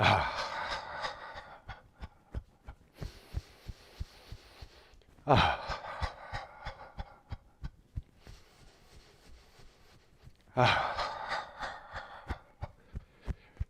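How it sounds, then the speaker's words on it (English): Slow, deep breaths in and out, each long exhale audible with a soft whoosh, repeated three times over a faint rhythmic background pulse. "if you want to do some cleansing and clearing breaths, so breathing in and"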